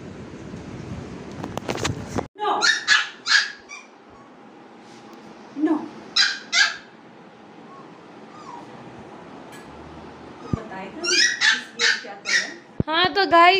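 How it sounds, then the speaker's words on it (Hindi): An excited puppy barks in short bursts and clusters of sharp yips, with whimpers in between, eager for an egg on its birthday; the barks sound close and loud against a quiet room. "किसी चीज के लिए इतना ज्यादा ये भौंकता नहीं है"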